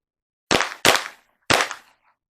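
Springfield XD-M pistol fired at a shooting range, three loud sharp close shots, the first two quickly together and the third after a short pause, each with a brief decaying echo.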